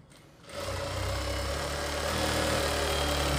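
Sewing machine stitching a reusable cloth baby diaper, motor starting up and settling into a steady, loud, continuous whirring hum close by.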